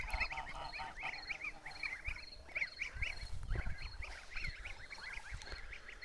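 Kholmogory goslings peeping in repeated high, shrill bursts over a steady farmyard background, close and continuous, with scattered low bumps and thuds beneath the calls.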